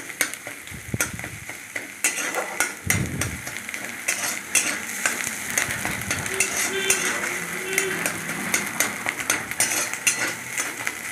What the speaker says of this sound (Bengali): ভালো করে খুন্তি দিয়ে নেড়ে নিলাম। ভালো করে ডিমের ঝুরিটা করে নিলাম, ভেজে নিলাম